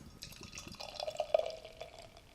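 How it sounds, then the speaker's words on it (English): Trailway Brewing Hopical Trop, a double IPA with sweet dark cherries, poured into a glass: a steady liquid trickle and dripping build up midway and continue as a soft, close splash with no talking. "let's give it a pour, see what we got going on."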